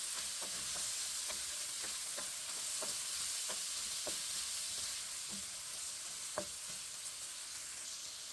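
Saltfish and chopped seasoning fry in a pot with a steady soft sizzle and hiss, broken by small crackles and pops, quiet and close with no talking.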